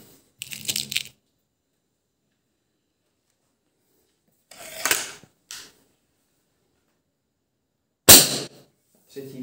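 Cometa Fenix 400 air rifle firing, with three separate bursts: a short mechanical clatter, a broader crack with a small follow-up click, and one sharp loud snap at the end, all set against near silence.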